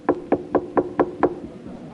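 Six evenly spaced knocks on a door ring out close and loud, a steady rhythmic pounding that stops abruptly, with no talk.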